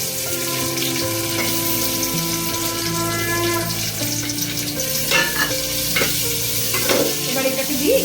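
Cashews and raisins frying in a pan with bay leaf give a steady, close sizzle with stirring scrapes and a few clinks, continuous throughout with no talking.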